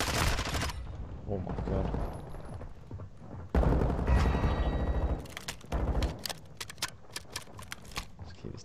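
Assault rifle with no attachments fires in a video game, with rapid bursts of gunfire interrupted by brief pauses and a voice speaking over the shooting.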